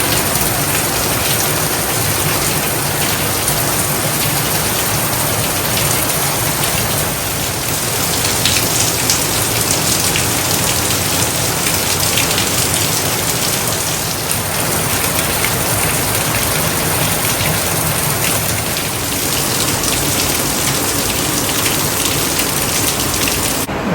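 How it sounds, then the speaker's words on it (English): Heavy rain pours down steadily and loudly on a moored sailboat, a dense, unbroken hiss of drops drumming on surfaces with no voices. "we continue to get heavy downpours"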